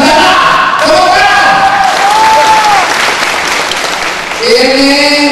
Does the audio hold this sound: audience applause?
yes